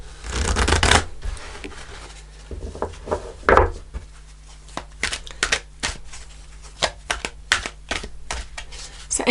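Tarot cards are shuffled by hand, a loud riffle followed by a run of crisp, irregular card slaps and flicks, close up with no talk.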